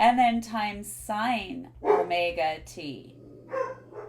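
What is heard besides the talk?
dogs barking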